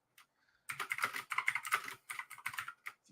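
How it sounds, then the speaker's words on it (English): Rapid keystrokes clatter on a computer keyboard in bursts, close and fairly loud, with a short pause after a few opening taps and no voices. "Typing it in."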